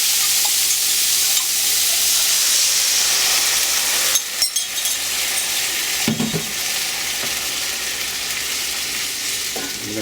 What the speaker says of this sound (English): We're going to go ahead and we're going to add our sauce now.